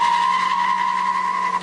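Tires squeal in a sustained, loud, high-pitched skid as a car launches at the start of Damon Hill's speed lap on a test track, steady and close with a slight waver at the end.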